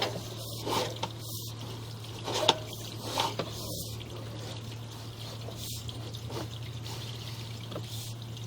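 Water runs and trickles through a 3-inch ABS plastic drain pipe during a sewer scope inspection, a steady hollow pouring with scattered drips and gurgles over a constant low hum, with no talking.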